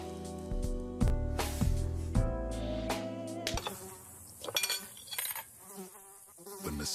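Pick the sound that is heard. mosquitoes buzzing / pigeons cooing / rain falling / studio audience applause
mosquitoes buzzing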